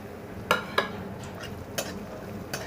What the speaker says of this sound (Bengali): কিশমিশটা খুব কম সময়ের ভিতরে ভাজা হয়ে গেল।